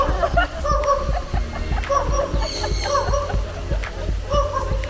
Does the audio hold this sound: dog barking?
yes